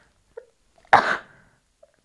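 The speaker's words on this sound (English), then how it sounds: "So I'm going to sneeze, excuse me." A single sharp human sneeze bursts out close by, preceded by a faint breath or short voiced sound, then trails off into quiet.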